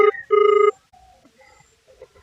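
A telephone rings in two loud electronic bursts, a short one and then a longer one, before fading into quiet room sounds with faint voices in the background.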